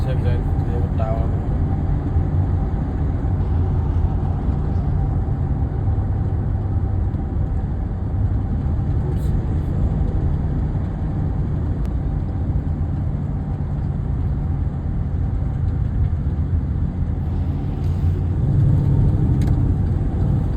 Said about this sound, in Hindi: ट्रैफिक भी बहुत होता है